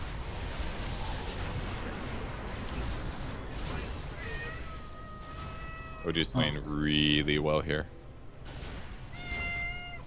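Cats meow in long, drawn-out, wavering cries that rise loud and close for a couple of seconds, with a fainter meow after, while someone commentates over the top.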